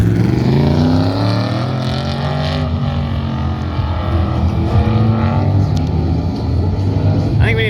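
A pickup truck at the 2021 Pro Touring Truck Shootout West autocross roars loudly through the course, its engine note rising and falling in steady sweeps throughout.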